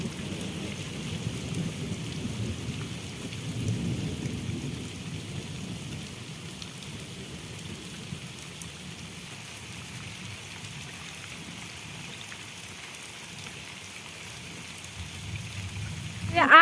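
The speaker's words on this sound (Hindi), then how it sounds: "बिजली भी कड़क रही है और बारिश देखो तो, और सुबह इतनी तेज़ धूप और अभी इतनी तेज़ बारिश" Heavy rain pours steadily in a hill village during a thunderstorm, with deep thunder rumbling early on and the downpour continuing as a constant wash of noise.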